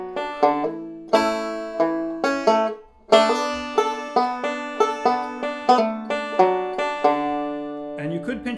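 A melodic-style banjo arrangement of a tune, with crisp plucked notes in quick runs and a few strummed, pinched chords, played close and clear with no talking over it.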